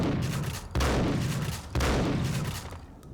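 Two heavy bursts of gunfire in Max Payne, each starting with a loud bass-heavy blast and then a dense rattling decay as objects get shot apart, close up with no talking.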